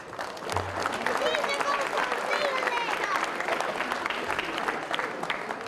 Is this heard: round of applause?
yes